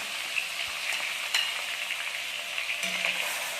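Onions sizzle steadily in hot oil in a pan while gulai, a spiced curry dish, is cooked, a bright continuous frying hiss with small crackles and stirring clatters, close and alone.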